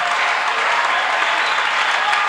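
A church congregation applauds and acclaims the Lord, a dense, steady roar of clapping filling the space loudly and continuously, with voices blended into the crowd noise.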